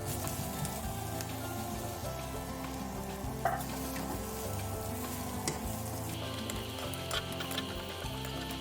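Potatoes frying in a pan with caramelized red onion give off a soft, steady sizzle with occasional stirring scrapes and light crackles, close and even.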